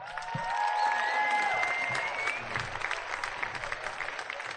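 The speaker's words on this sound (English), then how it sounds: "Join us in congratulating these seniors with a round of applause." Crowd at a high school softball championship applauds graduating seniors, a soft, distant spread of clapping with some cheering, and whistle-like tones sweeping above it early on.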